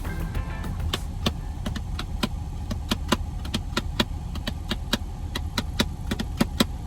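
A car engine runs steadily with a low rumble, punctuated by a regular series of sharp ticking clicks throughout.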